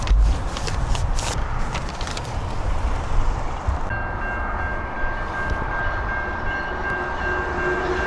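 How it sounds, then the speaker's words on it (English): A train rumbles steadily nearby, passing a car junkyard in Chilliwack, BC, broadband noise with a sustained horn-like tone entering midway and holding to the end. "the damn trains that come through here all the time"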